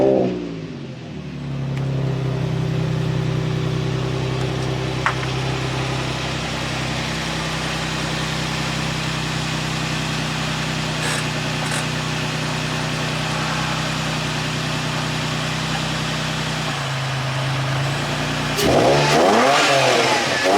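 An Infiniti G35 with catless downpipes starts and idles with a steady, deep rumble for a long stretch, then the engine is blipped into a couple of sharp revs near the end, close and loud.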